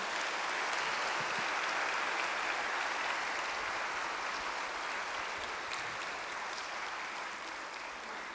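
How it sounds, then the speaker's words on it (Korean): A Korean Liberation Day 80th anniversary ceremony audience applauds in welcome of guests, a steady wash of clapping from a large crowd, somewhat distant and soft, fading slightly toward the close. "여러분 따뜻한 박수로 환영해 주시기 바랍니다"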